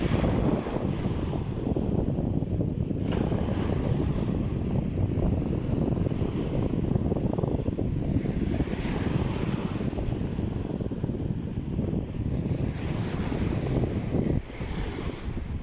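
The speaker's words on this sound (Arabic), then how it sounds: "صوت البحر صراحه" Sea waves wash steadily onto Azla beach near Tetouan, a continuous loud roar of surf mixed with wind buffeting the microphone, with no talk.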